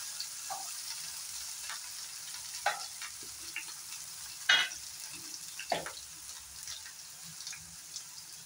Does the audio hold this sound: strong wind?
no